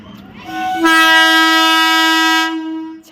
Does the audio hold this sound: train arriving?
yes